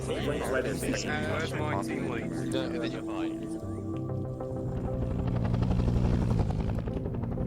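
Helicopter rotor thumping in the military game Arma 3 during a Vietnam-era operation, a steady loud drone throughout that swells toward the end, with players talking over it.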